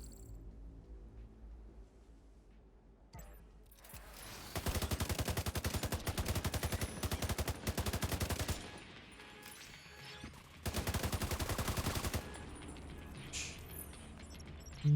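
ACR assault rifle fire in The Division 2 comes in two long, loud automatic bursts separated by a pause, with mechanical clicks and handling noises before and after.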